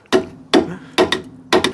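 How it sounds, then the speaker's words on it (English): A hammer strikes a Smart ForTwo car during steering and suspension work, giving four sharp metallic knocks in an uneven rhythm with brief ringing after each hit, close and fairly loud. "Hammer time."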